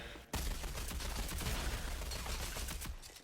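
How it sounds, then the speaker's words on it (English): Rapid automatic gunfire from Rogue Company erupts suddenly and continues as a dense, sustained burst of closely spaced shots, loud and near, with layered crackling reports and no voices over it. "you see I'm providing support fire"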